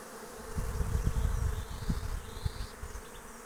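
Honey bees buzz busily around a hive entrance during an acacia honey flow, a soft continuous hum with louder swells as individual bees pass near.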